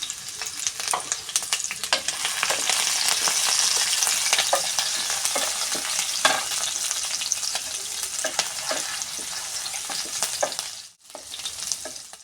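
Green chillies fry in hot oil with cinnamon, fennel seeds and cloves for a Paneer pepper fry. A loud, steady sizzle is broken by frequent stirring scrapes, with a brief dip just before the end.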